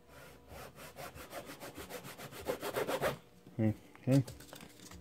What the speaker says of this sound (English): This is where the saw kind of comes in handy a little bit.